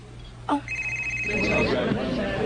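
A cellphone rings with a sharp electronic tone that starts abruptly and holds steady for about a second in an indoor room, while people talk over it and background chatter continues.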